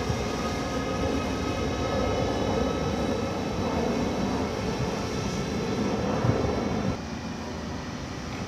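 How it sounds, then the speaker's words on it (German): A rail overhead line maintenance vehicle rumbles past at Blankenfelde station with a steady, loud mechanical roar and whine, the sound dropping slightly near the end. "So, hier kommt ein Steiger angesaust."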